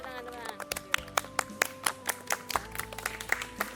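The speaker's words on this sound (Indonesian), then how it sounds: "Ya, saya setuju. Tepuk tangan." Rhythmic clapping from a small audience during a discussion show, a series of distinct, evenly spaced hand claps over steady background music, with speech mixed in.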